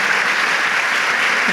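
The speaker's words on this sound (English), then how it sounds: "Can we please give Helen a large round of applause for joining us?" Steady, dense applause from an audience at the end of an onstage author conversation, a continuous wash of clapping with no pauses from start to finish.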